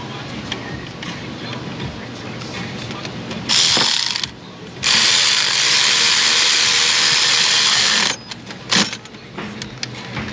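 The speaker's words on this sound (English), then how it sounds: "let's get the bit set up on our ratchet here." A hand ratchet working fasteners on a 2015 Nissan Pathfinder, with bursts of rapid clicking that stop and start over a steady workshop background, close and loud.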